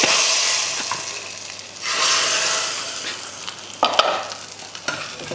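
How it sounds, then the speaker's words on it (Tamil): Curry leaves tempering in hot oil give loud, steady sizzling and hissing, with a fresh surge of spitting partway through and a few sharp pops and stirring scrapes near the end; no voices. "நம்ம வீட்டு கருவேப்பிலை ரொம்ப சவுண்டு ஜாஸ்தியாக இருக்குது."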